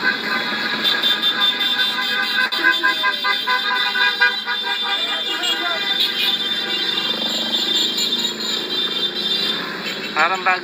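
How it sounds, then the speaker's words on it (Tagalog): Car horns honk repeatedly from a political campaign caravan in Pangasinan amid a busy outdoor din, with overlapping beeps and toots from several vehicles over a constant noisy background. "Ayan po, busina ng caravan."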